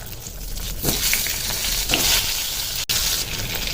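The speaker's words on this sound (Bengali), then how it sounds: "এখন সেই পুর ভরা পটলগুলো ভেজে নেব" Stuffed pointed gourds filled with matar dal frying in hot oil in a kadai, a steady loud sizzle with brief flares as pieces shift.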